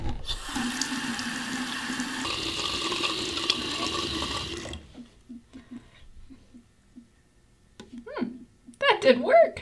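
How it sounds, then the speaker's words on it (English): Hot water runs steadily from an outdoor spigot for about five seconds, loud and continuous, then stops. Faint drips and small knocks follow, and a person begins talking near the end. "I'm just gonna use the water from our spigot, because we get really hot water"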